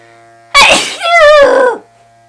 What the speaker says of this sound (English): Oh wait, I need to sneeze.